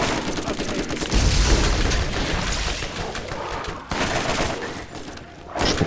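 Rapid gunfire bursts from shooting enemies in the co-op shooter game Borderlands, loud and dense across the clip with brief gaps between volleys.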